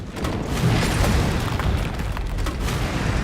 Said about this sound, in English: once we obey Carlos and zap Nemesis, we always follow up with another grenade.